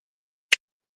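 A Cash App payment notification from a phone sounds as one brief, crisp blip in otherwise complete silence.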